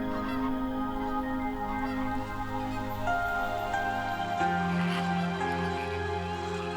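Water birds such as flamingos and grey herons calling at a low-salinity wetland in the mid-reaches of the Yellow River, a steady chorus of overlapping honking and tonal calls, fairly loud and continuous throughout.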